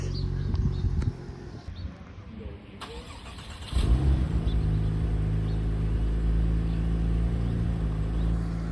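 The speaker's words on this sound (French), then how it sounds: "Petit start-up de la turbo." A Porsche 996 Turbo starting up at a car-spotting meet in Deauville: a quiet stretch, then an abrupt engine catch at about four seconds that settles into a loud, steady idle rumble close by.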